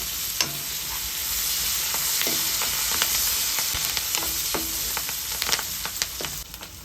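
Onions frying with curry leaves in hot oil make a steady close sizzle, broken by repeated clicks and scrapes of a spoon stirring the pan, with no talking.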